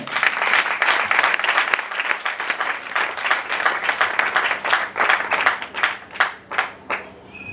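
A church congregation breaks into sustained applause to acclaim the Lord, many hands clapping densely and close, then thinning into a few scattered, separate claps before fading.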